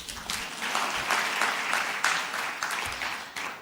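Conference audience clapping at a bank-sponsored gender partnership event, a brisk burst of many hands in fairly close, even applause lasting a few seconds.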